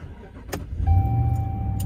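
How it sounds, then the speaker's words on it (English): A Ram 1500 pickup truck engine starting after a PCM swap, a brief crank followed by a steady idle hum with a whining tone, close and moderately loud. "Please start the engine."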